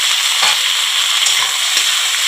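Boiled taro stolons go into a hot pan of frying onions and are stirred, giving a continuous close sizzle broken by a few scraping stirs.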